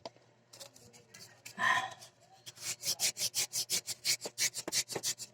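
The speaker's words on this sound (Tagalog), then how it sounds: "Tingnan natin kung kaya pang daanin sa liha tong shafting." Sandpaper rubbed against the metal shaft of a humming orbit fan motor, a brief scrape and then a steady run of rhythmic back-and-forth strokes, close and fairly loud.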